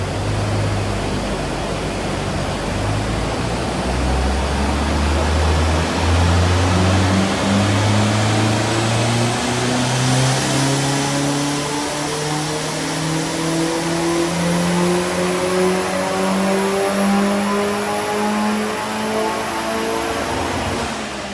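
Audi TT with a hybrid turbo engine on a track-car tuning pull, revving steadily upward through several long rising sweeps under loud, constant turbo and exhaust roar, close and sustained without talk.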